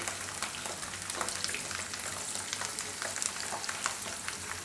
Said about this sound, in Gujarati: આને આપણે તેલમાં શેકાવા દેવું. થોડી લાલ થઈ જાય ત્યાં સુધી.